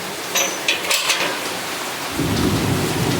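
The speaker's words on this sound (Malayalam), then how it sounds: "പൊരിഞ്ഞ മഴ." Heavy, out-of-season rain pours down during a thunderstorm. Thunder cracks and rumbles early on, then a dense, steady roar of rain takes over, loud and close, with no voices.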